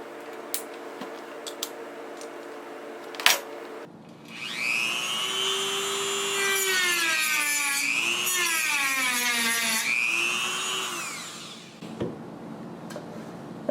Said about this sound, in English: I'm going to try first with just these sanding discs, see if that digs in there fast enough